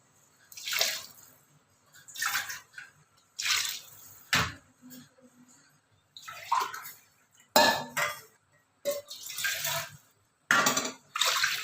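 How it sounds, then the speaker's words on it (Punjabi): Water is poured from a cup into a metal wok in a series of short splashing bursts, roughly eight pours with brief quiet gaps between them. "ਜਿਸ ਬਰਤਨ ਵਿੱਚ ਚੌਲ ਪਾਏ ਸੀ ਉਹਦੇ ਵਿੱਚ ਪਾ ਪਾ ਕੇ ਆਪਾਂ ਪਾਣੀ ਇਹਦੇ ਵਿੱਚ ਪਾਈ ਜਾਵਾਂਗੇ"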